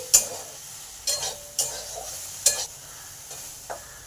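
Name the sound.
okra frying and being stirred in pan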